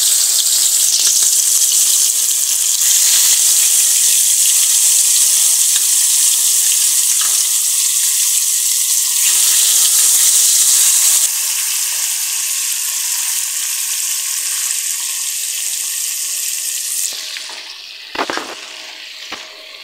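Tilapia fish marinated in turmeric, salt and chili sizzles loudly and continuously in hot oil, a dense close crackle that runs for most of the stretch before thinning out near the end.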